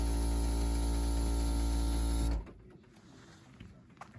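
A pump inflating the air suspension airbags on an AOR Odyssey Signature caravan, a loud steady mechanical buzz that suddenly stops after about two seconds, leaving quieter background noise with a few faint knocks.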